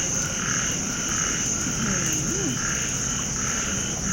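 Small frogs croak loudly through a rural night, a steady rhythmic chorus mixed with constant insect-like trilling, close and continuous without talk.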